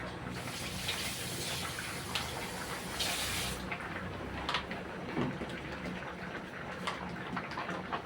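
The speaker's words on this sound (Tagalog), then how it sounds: "Nilagyan ko ng tubig guys. Para masimot yung sauce niya." Water pours into a pan of spaghetti sauce made with tomato paste, a steady close gushing splash that thins out partway through, followed by light clinks and scraping.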